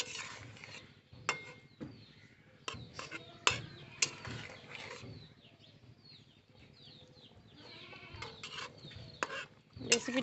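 Spinach and potato curry stirred in a pan with a utensil, producing intermittent scraping and clinking knocks spread across the stretch, moderately close, with softer rustling between strikes.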